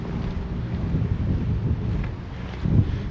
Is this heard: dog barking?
no